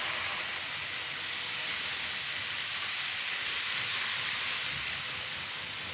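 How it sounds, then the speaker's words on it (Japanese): A model railway EF210 electric locomotive and a white rapid train arrive at an elevated station, heard as a steady faint hiss and whir with a brighter rise partway through. "EF210 型電気機関車と白色の快速列車が新幹線駅高架駅に到着いたします"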